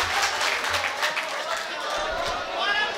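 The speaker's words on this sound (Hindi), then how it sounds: "जोरदार तालियों से आबाद सुल्तानपुरी का हौसला बढ़ाइए" Dense crowd applause fills a mushaira audience hall in Sambhal, Uttar Pradesh, a steady wash of many hands clapping at once, close and loud throughout without a break.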